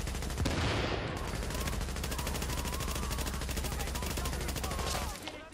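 Sustained automatic gunfire from Tom Clancy's The Division, a dense rapid rattle of shots that runs nonstop for about five seconds before cutting off.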